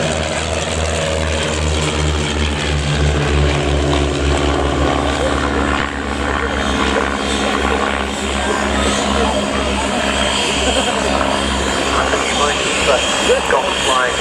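A Chipmunk propeller aircraft at an RAF Cosford airshow, a steady droning engine with a strong low hum throughout, loud and continuous under a commentator's voice.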